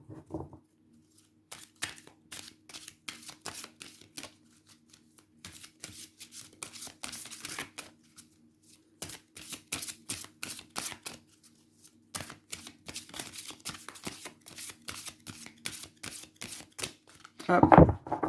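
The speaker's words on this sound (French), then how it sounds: "Donc je vais vous tirer une carte des Murmures de la nature." A deck of oracle cards is shuffled with light papery riffles and taps in bursts, with quiet gaps, ending with a card drawn; no one speaks.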